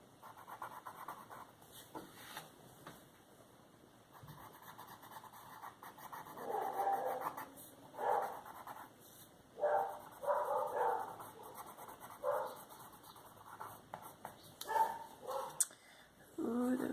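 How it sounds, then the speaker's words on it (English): Dogs panting, yipping and giving short barks in a room at moderate distance, bursts clustering midway through and continuing intermittently over a steady background hum. "those silly dogs"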